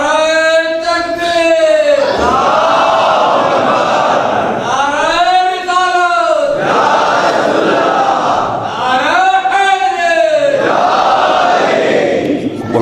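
A crowd chants the Naara-e-Takbeer slogan at a Shia majlis gathering, voices rising together in three loud, drawn-out rounds, each separated by a brief lull of mixed crowd noise.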